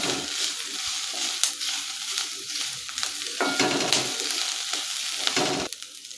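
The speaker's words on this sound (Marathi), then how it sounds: "आता आपण कांदा गोल्डन ब्राऊन होईपर्यंत परतून घ्यायचा आहे" Sliced onion stir-fries in a hot pan toward golden brown, giving a continuous close sizzle with scraping and stirring clatter that comes and goes in waves.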